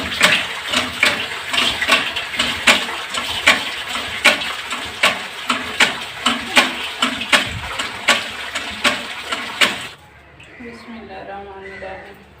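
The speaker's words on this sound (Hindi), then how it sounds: "अब मैं पानी में धो के सरफ डाल के रखी हूँ।" Clothes being washed by hand in water with detergent powder, giving a steady run of rhythmic wet sloshes and squelches, fairly close and loud, before the sound drops away near the end to quieter background and a voice.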